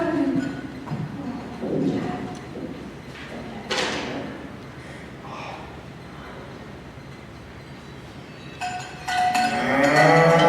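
A cow moos in a stage production of Into the Woods, with a few drawn-out lowing calls spread across the stretch among stage noises and a bright clang near the end.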